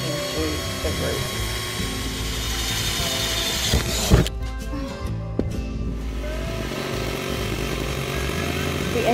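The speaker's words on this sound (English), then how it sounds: "So here we go, drilling holes into the roof." A power drill drilling holes into a Mercedes Sprinter van roof, a loud, continuous whirring throughout, with a few sharp clicks and brief dips in the grinding.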